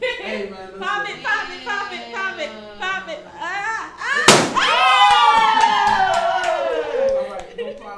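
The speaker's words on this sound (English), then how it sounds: "So pop your balloon." A single balloon pops with a sharp, loud crack partway through, amid a child's high, whining, crying voice that carries on before and after the burst, with other people talking nearby.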